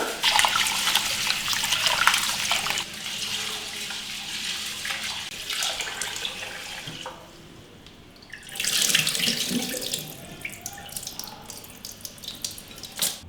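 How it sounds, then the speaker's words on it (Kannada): Rice being washed by hand in water at a kitchen sink, steady splashing and sloshing with running-tap water close up, a brief quieter pause partway through before the swishing resumes; no talking. "ಒಂದು 2 ರಿಂದ 3 ಸಲ ಅಕ್ಕಿನ ವಾಶ್ ಮಾಡ್ಕೊಳ್ಳೋಣ."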